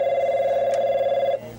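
A telephone at a video game company's customer support line rings with one steady, loud, warbling electronic tone that holds for about a second and a half and then cuts off.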